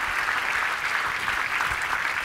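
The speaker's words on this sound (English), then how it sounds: "Round of applause, please." Steady, dense applause from a large indoor audience at a talk on the November Project fitness movement, continuous and even throughout without pause.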